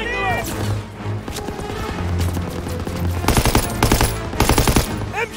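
Rapid bursts of World War II machine-gun fire in a Call of Duty WWII battle on Hill 493, loud sustained rattling volleys that intensify toward the end, mixed with battlefield din and shouted voices.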